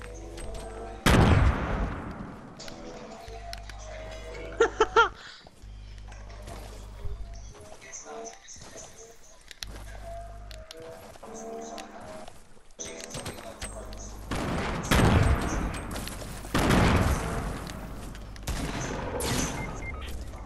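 Gunfire in the video game Fortnite, with bursts of shots crackling through the match, some loud and close, others quieter, interleaved with footsteps and game noise while players talk over voice chat.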